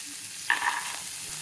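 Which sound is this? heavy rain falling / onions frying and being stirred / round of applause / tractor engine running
onions frying and being stirred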